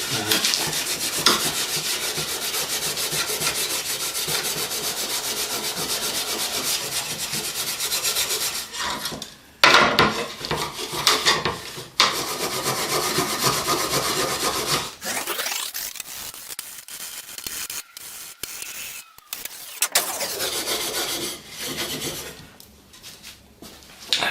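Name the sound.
scraping and rasping crud off a bushcraft knife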